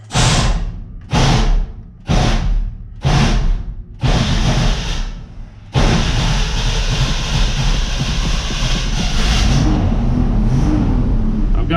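A Chevrolet K30 Squarebody truck's starter fails to engage properly, giving several loud, abrupt grinding bursts of about a second each with gaps between, then a longer sustained harsh whirring grind that runs on steadily.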